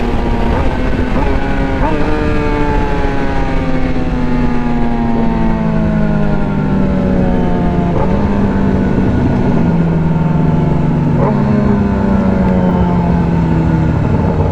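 A newer Kawasaki ZX-10 motorcycle with a full SC Project exhaust roars loudly and steadily, its engine note rising and falling through repeated revs and gear changes, with wind rush throughout.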